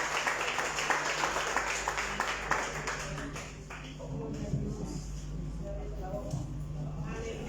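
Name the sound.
church congregation applauding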